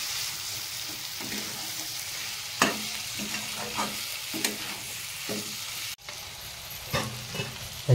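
Marinated prawns fry in a spicy masala in a pan, giving a steady close hiss of sizzling broken by several sharp scrapes and clacks as the mix is stirred, with no voices.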